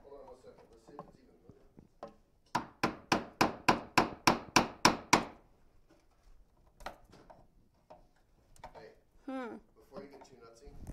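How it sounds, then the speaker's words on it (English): A hammer strikes a wooden china cabinet during an upcycle, giving about ten evenly spaced, sharp, close blows in a quick rhythm. Talk and some lighter knocks come before and after. "Hammer."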